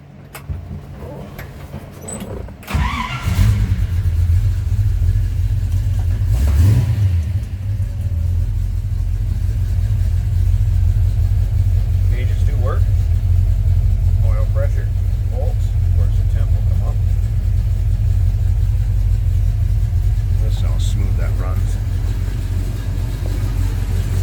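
A 1956 Chevrolet 210 two-door street rod engine cranks and fires after a short pause, then settles into a steady, deep, loud idle rumble that continues throughout, with occasional talk over it.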